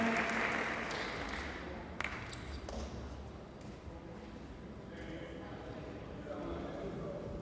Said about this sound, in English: You all clap for our elder here